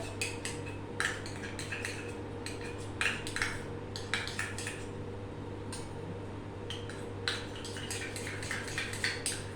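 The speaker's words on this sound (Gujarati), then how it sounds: "એમાં હું થોડું ટમેટો કેચઅપ નાખી અને એને એક રસ કરી દઉં છું" A spoon clinks and scrapes against a bowl while garlic chutney is stirred together with tomato ketchup, making irregular close metallic taps over a steady low hum.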